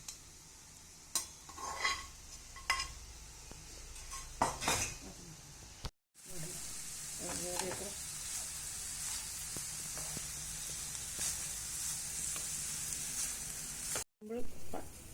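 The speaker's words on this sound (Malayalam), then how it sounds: "റൈസ് പിന്നെ ബീഫ്, നമ്മൾ ഫ്രൈ ചെയ്ത ബീഫ് ഇടണം." Fried beef being stirred into rice in a home-cooked beef fried rice, with a soft sizzle under repeated scraping and clinking of a spatula against the pan and two short dropouts; no voices.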